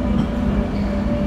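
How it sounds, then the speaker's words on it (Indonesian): Soekarno-Hatta airport rail link train running, a steady loud rumble of wheels and carriage noise with a faint tonal hum, heard from inside and without talk. "kereta ini akan berhenti di stasiun berikutnya, yaitu stasiun Duri"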